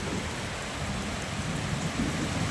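Heavy rain pours in a thunderstorm at Mobarakpur Colony, Tehatta, Nadia, a dense, loud, unbroken roar of water with deep rumbling mixed in and no voices.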